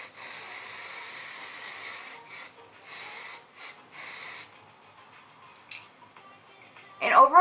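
Sephora primer mist is sprayed onto a face in short, soft hissing bursts, several spritzes in a row at close range, then quiet handling noises and a brief rustle at the end.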